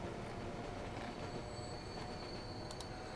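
Train running in the video game Transport Fever 2, a continuous loud rumble of wheels on rails with a thin squealing tone and brief high screeches near the end, steady throughout with no talking.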